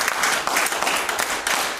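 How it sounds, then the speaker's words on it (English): Church congregation clapping hands together in a sustained, dense burst of applause that stays steady and fairly loud throughout, with no voices standing out. "Let's give the Lord a big hand clap."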